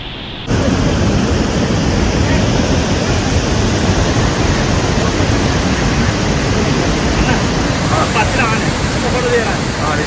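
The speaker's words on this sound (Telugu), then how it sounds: "కూర్గ్లో one of the best water ఫాల్స్లో అబీ falls ఒకటి అనమాట" Abbey Falls in Coorg roars as a dense, steady rush of falling water close by, starting abruptly and continuing as loud broadband noise, with faint voices in the background near the end.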